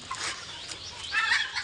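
Faint clucking and calling from a flock of 32-day-old chickens on a farm, soft and steady with brighter bird calls rising near the end.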